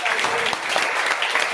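Audience applause fills a felicitation ceremony at Zenith Mega Mart in Chhapra, a dense, steady clatter of many hands clapping throughout, loud and close with no pause.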